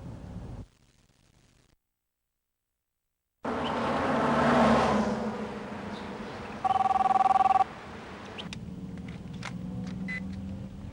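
An incoming call rings on a telephone, heard as a short, clear ringing burst against background noise resembling road traffic, with no talking during the ring.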